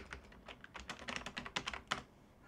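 Rapid keystrokes on a computer keyboard while entering a password at an SSH login during a network lab, a quick irregular run of close, fairly quiet clicks with no talking.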